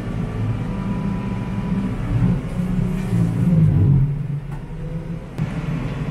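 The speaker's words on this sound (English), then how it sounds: "the 75 horsepower tractor, Massey Ferguson 4707, takes care of it pretty easily" A Massey Ferguson 4707 75-horsepower tractor drives a heavy Baumalight brush cutter grinding vegetation to the ground during road clearing, a steady loud low engine drone with a deeper surge midway and no talk.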